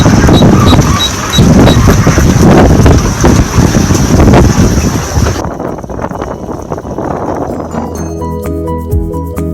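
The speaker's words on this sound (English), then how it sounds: "As the wind starts picking up as we clear the island." Strong wind roaring across the microphone aboard a boat heading out of a channel past an island near Key Largo, loud and continuous, easing slightly partway through while engine hum and clanking mechanisms carry on underneath.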